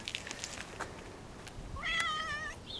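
A single clear cat meow, drawn out and slightly wavering, follows a few soft scattered taps and rustles.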